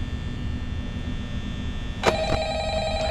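A telephone rings once in the Five Nights at Freddy's horror video game, a sudden bright electronic ring over a steady low mechanical hum.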